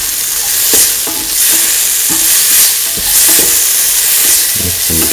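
A spoon stirs a potato, split chickpea and coconut milk stew in a hot pan, loud scraping knocks recurring every second or so over a constant bright sizzle, close and without talk.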